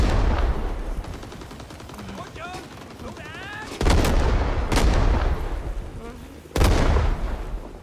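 Heavy gunfire and sharp explosion blasts from the Rising Storm 2 video game, with a steady crackle of shots broken by three loud booming impacts, while voices talk over the battle.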